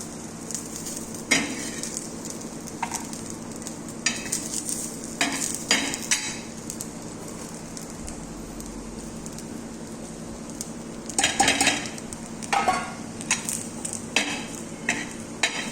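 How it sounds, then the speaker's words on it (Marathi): Coconut being stir-fried in a pan: a low sizzle under repeated scraping and clinking of a spatula against metal, in irregular bursts. "खोबरं आपल्याला परतून घ्यायचे"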